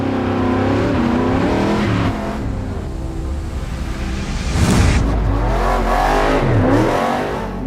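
A truck drives up and over a dirt ramp with a loud engine that revs, surges and then pulls away, its pitch rising and falling, close and continuous with no voices.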